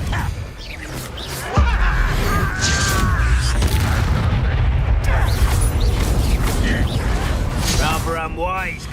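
Infringo spell cast in Hogwarts Legacy, a sharp magical impact with booming bursts and crackling effects amid game combat noise, with voices talking over it.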